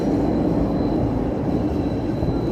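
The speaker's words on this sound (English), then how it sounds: "There's the sound of the red line." A CTA Red Line subway train rumbles beneath a Chicago street near Clark and Division, a loud, unbroken low roar with steady hiss and no voices.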